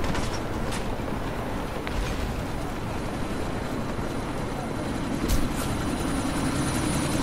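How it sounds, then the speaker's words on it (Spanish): A helicopter in the video game Deus Ex: Mankind Divided gives off a steady, dense rotor and engine roar that fills the scene evenly, with a few brief sharp bursts layered over it and faint voices in the background. "tienes que inutilizar ese helicóptero"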